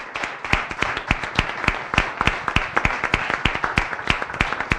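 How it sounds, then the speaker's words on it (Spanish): Audience applauding guests at a talk on charity toward migrants, a moderate patter of distinct claps at middling distance with no voices over it. "Pido un aplauso para nuestros tres invitados de gusto."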